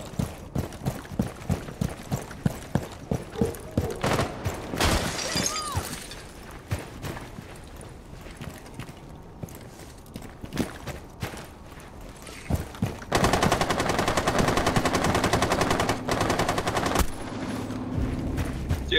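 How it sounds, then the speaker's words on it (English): Light machine gun firing in the video game Rainbow Six Siege, with loud rapid bursts and dense sustained automatic fire, plus mechanical clanks and thuds throughout, including a long continuous stretch near the end. "I was just trying out the new LMG."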